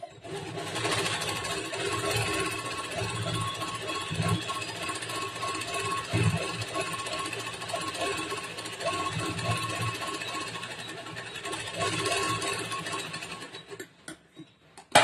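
A sewing machine stitches a blouse seam, a fast steady mechanical whirring that runs almost unbroken for the whole stretch with brief slowdowns, close and alone.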